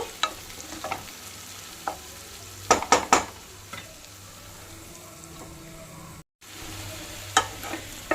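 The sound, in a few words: drumsticks and tomato added to frying onions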